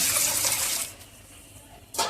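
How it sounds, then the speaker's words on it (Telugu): Water gushes from a tap or jug over soaking dosa batter ingredients, a loud steady splashing pour that stops abruptly, then a brief second splash at the end. "ఇందులో వాటర్ పోసుకుందామండి ఇప్పుడు వాటర్ వేసుకొని నాలుగు గంటలన్నర నానేద్దామండి వీటిని"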